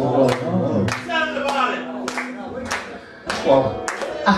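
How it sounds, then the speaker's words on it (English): An audience claps in an uneven, scattered way while someone talks over it, and there is a brief lull before the claps pick up again. "Keep the clapping going."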